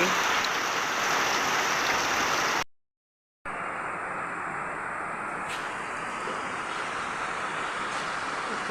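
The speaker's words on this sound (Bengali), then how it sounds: "বৃষ্টি দিতেছে" Steady rain falls on an afternoon, a dense, even hiss that fills the scene and runs unbroken apart from one brief gap.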